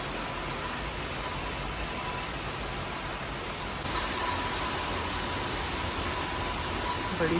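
Heavy rain pours down in a dense, steady hiss that swells louder partway through, close and continuous with no voices.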